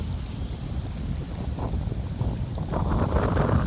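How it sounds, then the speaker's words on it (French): Force 6 wind blows through a small cove on the Turkish coast, a loud, continuous rushing roar that buffets the microphone and swells toward the end, with faint water sounds beneath. "Notre petite crique avec une soufflée à force 6"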